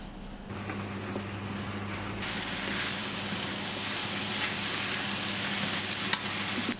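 Phad Sie Ew rice noodles stir-fry in a hot pan over high heat, giving a steady, close, loud sizzle that intensifies partway through, with faint scraping of the stirring and no voices.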